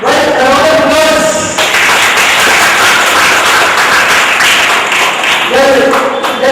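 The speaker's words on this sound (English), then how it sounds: "Well, a round of applause." A small round of applause at a school awards event in southern India, loud broadband clapping filling most of the stretch, with tonal sound or voices at the start and end.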